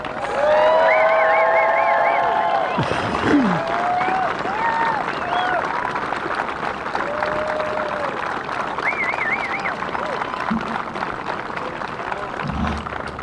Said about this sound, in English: join me with one more sounding round of applause